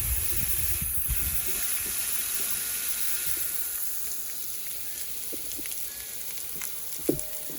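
A Sea Doo Speedster bilge pump pushes out the shallow water in the hull, giving a steady, faint splashing and trickling with a couple of small knocks near the end and no talk.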